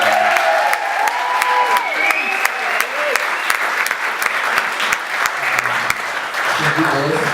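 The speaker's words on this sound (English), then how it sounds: "so please a round of applause" An audience gives warm applause during a speech, a dense, steady clapping with scattered voices and cheers rising over it, close and fairly loud.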